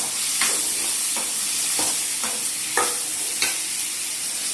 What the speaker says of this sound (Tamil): நெக்ஸ்ட் முருங்கைக்காய் நம்ம கட் பண்ணி வச்சிருந்தோம் இல்லையா, அதையும் போட்டு ஒரு வதக்கணும்.